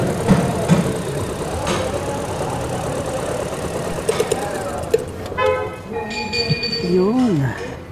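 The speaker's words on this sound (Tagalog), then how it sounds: "Babibrate ang makina." A 2020 GAC GN8 engine with a cylinder fault runs roughly under the hood, a steady shaky rumble with knocks and clinks, while a person talks over it and tonal beeps sound near the end.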